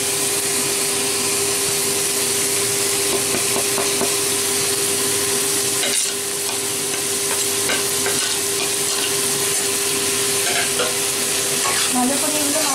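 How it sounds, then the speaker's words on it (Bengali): Spices and chopped tomato sauté in a hot pan with a continuous close, loud sizzle and scattered crackles over a steady low hum, briefly dipping once midway. "এক মিনিট একটু সটে করতে হবে। দিয়ে দিচ্ছি মশলাগুলো।"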